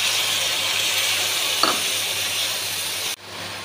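A steady, hissing sizzle of spice paste frying with onion, green chili and bay leaf for a gourd and fish-head curry, loud and continuous, dipping abruptly near the end.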